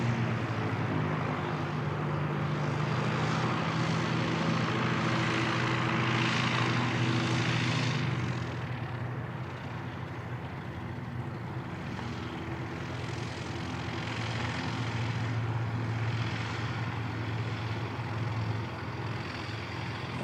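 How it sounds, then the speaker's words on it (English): A small air ambulance propeller plane taxis at Christchurch Airport, New Zealand, its steady engine drone and propeller hum continuous and fairly loud throughout, with a slight dip in level midway. "Looks like the little life flight plane's coming back out now as well."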